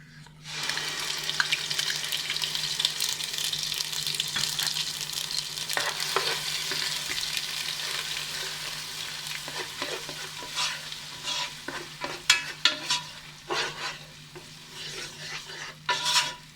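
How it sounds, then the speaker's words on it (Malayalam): Onion paste sautés in oil for a Rajasthani mutton banjara, giving a steady crackling sizzle with repeated scraping and stirring of a spoon against the pan, close and continuous. "ഇതിൻ്റെ പച്ചമണമൊക്കെ മാറി ഒന്ന് ആയി വന്ന വരെ നമുക്കൊന്ന് വഴറ്റിയെടുക്കണം"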